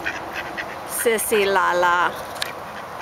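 A duck quacks in a few short honking calls close by outdoors while people talk and encourage a child to toss it a cracker.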